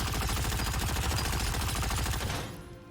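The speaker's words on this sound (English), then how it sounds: "Then we have a Gatling gun" A Gatling gun skill in Lost Ark fires a loud, rapid, evenly spaced stream of shots for over two seconds, then stops and leaves a fading tail.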